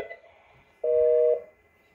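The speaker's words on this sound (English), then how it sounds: "the other screens will continue to ring" A Fanvil i53w intercom touchscreen gives one loud, steady electronic ring tone of about half a second, set against quiet room background with faint beeps before it.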